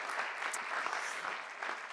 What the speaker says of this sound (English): maybe applause for all the filmmakers, 149 filmmakers